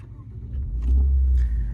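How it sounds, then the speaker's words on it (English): A 2024 Maserati Ghibli Modena Ultima Q4 AWD starts in sport mode, its engine catching with a deep, close rumble that swells into a brief rev and settles. "now we hear that engine come to life"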